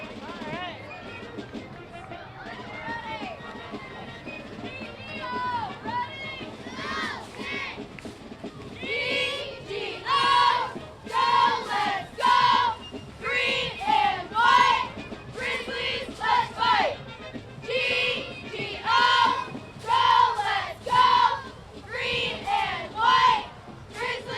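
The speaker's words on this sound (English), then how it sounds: "They're going to give us a cheer." Guilford cheerleaders performing a cheer at the Guilford Fair Parade 2024, rhythmic shouted chant lines in sharp bursts with claps, close and loud, after a quieter stretch of crowd murmur and brief talk.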